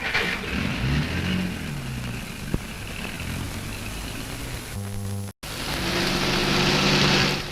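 Car engine running during a drive, a steady broadband rumble with engine tones shifting, briefly cut to silence and resuming, no voices.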